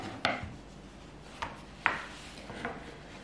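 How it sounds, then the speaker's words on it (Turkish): A wooden rolling pin working dough on a floured board, giving a few separate sharp knocks and taps spaced irregularly over a quiet background with no talk. "oklavamla artık açmaya geçiyorum"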